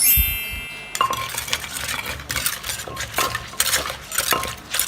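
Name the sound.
pounding som tam ingredients with a pestle in a mortar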